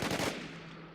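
A quick burst of rapid automatic gunfire in the zombie survival video game WarZ, several shots in fast succession at the start that then ring out and fade.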